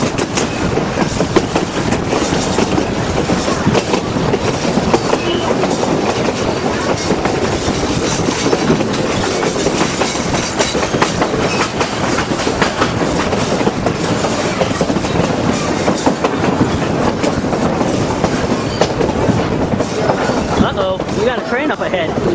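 The Durango and Silverton narrow-gauge train rolls along its rails in a steady, loud, continuous rumble with clickety-clack from the wheels, heard from on board near the Hermosa area.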